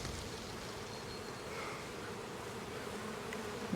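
A swarm of honeybees buzzes in a steady, dense hum, close and even throughout, with no talking.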